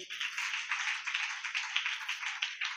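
Congregation at a fasting prayer meeting in a temple clapping hands together in a steady, continuous rhythm, dense and bright, with no talk over it.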